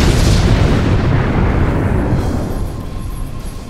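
A large explosion in the video game Star Trek Online booms loudly and close, then rumbles on as a dense roar that slowly thins out over a few seconds.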